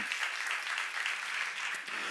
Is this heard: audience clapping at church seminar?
yes